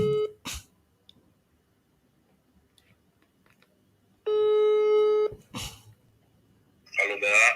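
A telephone call being placed: a steady electronic ringing tone sounds for about a second in the middle, with brief voices and short noisy bursts before and after it.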